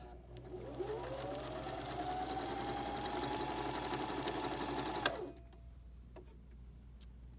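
A Baby Lock Zeal sewing machine runs steadily on a zigzag stitch for about five seconds, a close, even mechanical whir with rapid needle ticking, then stops, leaving a quiet room with a couple of faint clicks.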